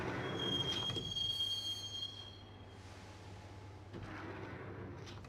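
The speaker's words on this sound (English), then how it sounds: "the train doors had already shut behind me, and I was in for the ride" Train rolling along in the video game Max Payne, a steady low rumble of wheels on track with a thin high squeal early on, continuous and fairly close.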